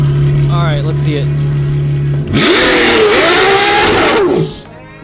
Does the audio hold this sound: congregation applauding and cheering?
no